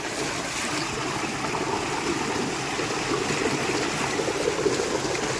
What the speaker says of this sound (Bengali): এটা থেকে প্রত্যেকটা জমিতে জল যায় তো এখানে আমরা হাত পাগুলো ধুয়ে নিব